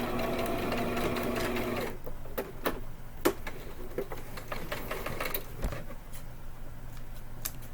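Sewing machine stitching rice into a fabric item, working back and forth to back-stitch at the end of a seam; a steady mechanical whir runs for about two seconds, then lighter, intermittent clicks and short bursts follow.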